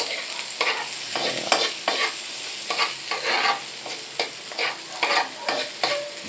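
Fish in a hot pan being stirred with a ladle, rhythmic scraping strokes roughly every half second over a light sizzle, close and fairly loud, with no one speaking.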